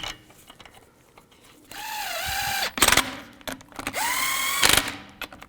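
A power tool spins lug nuts onto a car wheel during outer tie rod replacement on a 2011-19 Ford Police Interceptor Utility. Two rising whirring bursts of about a second each are broken by sharp clacks, and there is no talking.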